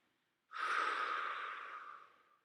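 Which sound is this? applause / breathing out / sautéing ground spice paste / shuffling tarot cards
breathing out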